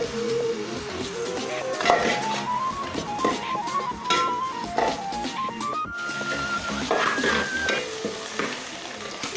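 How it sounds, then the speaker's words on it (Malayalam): Tomatoes with rock salt sautéing in a pan for a homely chicken biryani, a steady broadband sizzle with scraping stirs, overlaid by loud background music with a melody running throughout. "ഇപ്പോൾ തക്കാളി നന്നായിട്ട് വഴന്നു വന്നിരിക്കുകയാണ്"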